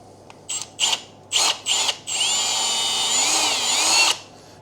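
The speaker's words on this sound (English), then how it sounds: "I've just got a 3mm drill bit there just to start us off" Power drill with a 3mm bit boring through plastic for a DIY kegerator, several short whining bursts followed by one sustained high-pitched drilling run of about two seconds, close and loud.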